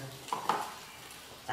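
Fermented rice (mẻ) being stirred into a sizzling hotpot, with a few scraping clinks of utensil against the pot over a soft, steady sizzle, close and fairly quiet.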